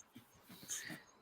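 A puppy whimpers softly in a few faint, high, breathy whines, close by and quiet, with no talking.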